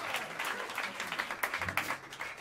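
Audience applause for a jazz quintet at Smalls Jazz Club, a live venue, with dense steady clapping from a crowd throughout and a few louder claps near the end.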